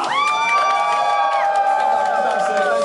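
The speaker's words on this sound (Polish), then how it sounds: "przywitajcie wielkim hałasem Adama Płoniarza!" A festival crowd at an Ostatki carnival event on a brewery stage cheers and whoops loudly to welcome a performer, steady and dense throughout with rising shouted voices over the noise.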